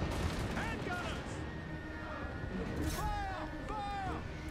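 Handgunner volleys in a Total War: Warhammer 2 battle, a dense, steady crackle of massed gunfire with no clear separate shots, mixed with shouting voices and whistling tones over loud battle din.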